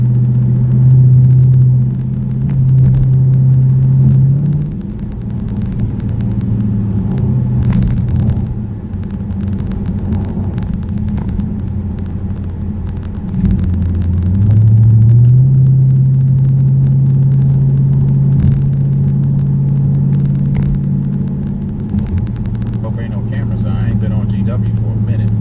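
A Dodge Charger R/T with its check engine light on drives along, its engine giving a steady low rumble with slight rises in pitch throughout, loud and close with no talk over it.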